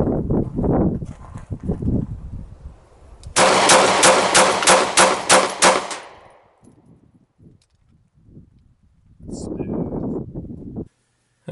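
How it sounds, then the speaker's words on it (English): A Kel-Tec PF-9 pistol fires a rapid string of about eight shots in quick, even succession, loud and close, with talking before and after the burst. "try some rapid fire as rapid as I can get it"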